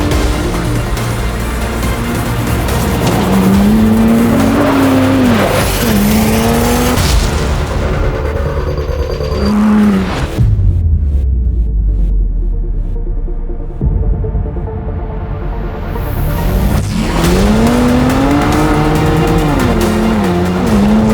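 A Ford Bronco Raptor truck driving off-road, its engine roaring loud and steady throughout, rising and falling with throttle and gear changes, with a brief lull midway before revving hard again.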